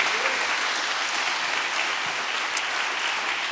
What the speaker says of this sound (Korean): 우리 박수로 영광 돌리기를 주의 이름으로 간절히 바랍니다